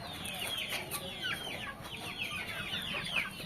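Rooster with deep, solid-coloured plumage, standing about 23 in size and weighing 7 kg, clucking in repeated short calls over a steady background hiss, moderately near and without speech.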